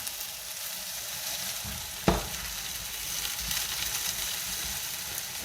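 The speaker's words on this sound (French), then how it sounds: "De temps en temps, on remue les pommes de terre. On remue les aubergines aussi." Potatoes and aubergines fry in a pan for moussaka with a steady, soft sizzle, broken by one sharp clack of a utensil stirring partway through.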